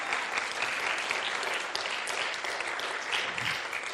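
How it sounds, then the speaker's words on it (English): A church congregation at a Sunday morning service claps for its college graduates in a sustained, even round of applause heard from within the room, with no break in the sound. "please recognize our college graduates with a round of applause"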